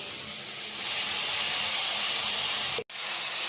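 Grated radish and chopped radish leaves hit a hot pan and sizzle, a loud, steady hissing that swells after a moment and holds, broken by one brief dropout near the end.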